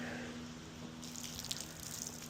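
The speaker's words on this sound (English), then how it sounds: "I like to use hot water here." Hot water runs steadily from a hose or tap while a car is being washed with contact soap, a continuous hiss of spraying and splashing water that grows brighter and louder midway, with no talking.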